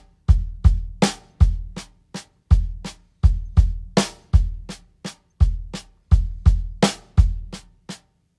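A drum kit plays steady paradiddle patterns with accents starting on the left hand, giving a regular pulse of sharp strokes and periodic louder hits that mix in cymbal wash, close and alone.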